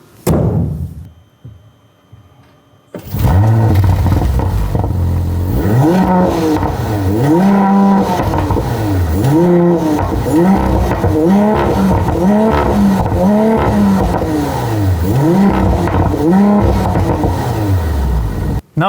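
An Audi RS5 engine revs loud and close, its pitch climbing and falling in repeated rising sweeps as the car accelerates through gears after a few seconds of near quiet, with no voices.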